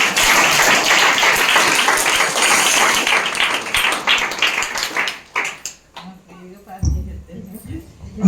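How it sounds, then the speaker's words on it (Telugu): An audience at a Christian worship gathering applauds the singer Madhavi after her devotional song, a loud dense burst of clapping that fades after about five seconds into quieter sounds and a voice. "పాట పాడిన మాధవి గారికి అందరూ చప్పట్లు కొడతామా"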